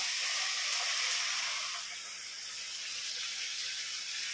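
Water poured into a hot cooking pot bursts into a loud hissing sizzle that eases after a couple of seconds into a quieter, steady simmering fizz.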